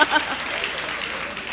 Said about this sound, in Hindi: एक बार सारे लोग जोरदार तालियां बजाइए